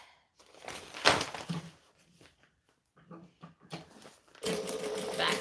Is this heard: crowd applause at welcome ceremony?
no